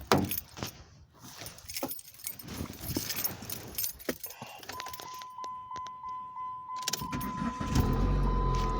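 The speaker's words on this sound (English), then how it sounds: "let's go ahead and crank it up and see how she runs" A 2005 Dodge Neon with a repaired idle air control connection is cranked and started, then settles into a steady idle. Keys jangle near the start, and a thin whine runs through the idle.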